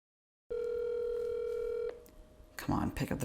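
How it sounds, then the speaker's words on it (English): A telephone ringback tone plays while a caller waits for the other end to answer, one long steady electronic note that cuts off and gives way to a voice on the line. "Come on, pick up the phone."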